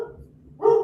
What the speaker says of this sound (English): the mailman's here in case you might hear my dog in the background.